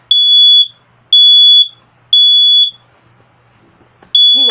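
A Kidde KN-COS-MB smoke alarm sounds three loud, evenly spaced high-pitched beeps of about half a second each, then starts a fourth, with a faint voice briefly audible at the end.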